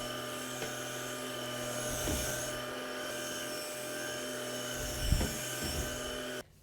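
A cordless vacuum cleaner runs steadily on a rug, its motor whine and suction drone continuous and close, with a few brief bumps and surges as the head moves, then cutting off abruptly at the end.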